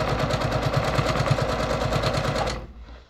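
A Brother PQ1500SL sewing machine stitches free-motion quilting with a loud, steady mechanical chatter that stops abruptly near the end.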